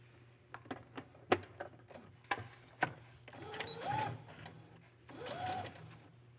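A sewing machine stitches a pocket flap in faint, quiet bursts, with a run of clicks and knocks at first, then two longer whirring stretches of stitching.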